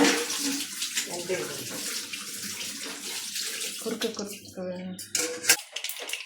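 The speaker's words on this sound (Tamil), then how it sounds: "கடுகு பொரிஞ்சிருச்சுங்க." Mustard seeds sizzle and splutter in hot coconut oil while a Tamil curry-leaf kuzhambu is tempered. A dense, hissing crackle with sharp pops sounds close by, and someone speaks over it.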